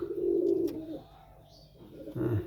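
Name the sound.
pigeons cooing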